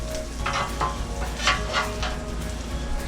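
Shrimp and scallops drop into a pan of Alfredo pasta, setting off a steady sizzle with several brief bursts of spattering as pieces land, moderately close and with no voices.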